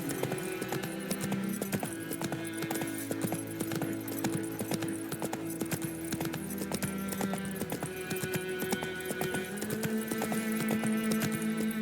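Horse hooves clip-clop in a steady, continuous trotting rhythm in The Witcher 3, close and clear over a droning game music bed, with no speech.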